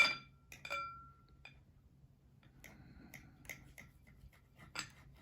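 Knife cutting a cooked chuck eye steak on a plate, faint scattered clinks and scrapes of metal against ceramic at close range, quiet, with no talk.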